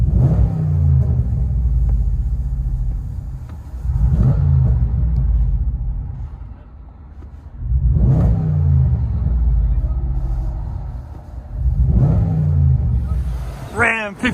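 A RAM 1500 with a 5.7L HEMI V8 and aftermarket exhaust, heard from inside the cabin: a deep, muffled rumble that swells in four throttle blips about every four seconds, dipping back to idle between them.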